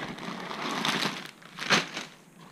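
Plastic bag holding fishing baits crinkles and crackles close up as it is handled, in irregular bursts with a louder crumple near the end.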